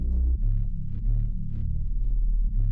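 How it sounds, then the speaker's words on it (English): An Area 51 bass plays a very basic bass line with no effects. Deep, sustained notes change every half second or so, close and alone, with no talking. "I use this Area 51 bass, and this is from Coding Files 2, and I'm just playing a very basic bass line"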